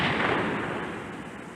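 A single loud gunshot-like blast that rings out and slowly decays over about a second and a half.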